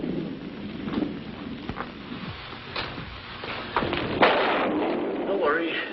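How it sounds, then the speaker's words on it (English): Thunder rolls in a radio drama, with low rumbles and sharp cracks mixed with rain-like hiss, while characters talk over it. "Just a little thunder."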